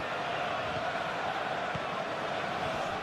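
A stadium crowd in a Premier League football video game simulation of Arsenal versus Chelsea keeps up a continuous, fairly faint roar that stays even throughout.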